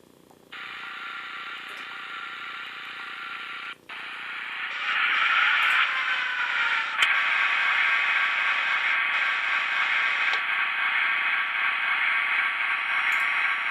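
An Athearn Blue Box GP40-2 HO model diesel locomotive with a sound decoder starts up, giving a hissing, humming idle that steps up louder as the engine note rises, with brief clicks; close and steady, no speech.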